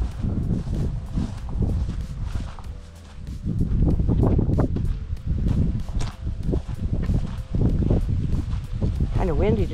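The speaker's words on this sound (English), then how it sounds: "Kind of windy today." Gusty wind buffets the microphone in uneven low rushes in a Georgia peach orchard, swelling and easing, with scattered rustling and light thumps throughout.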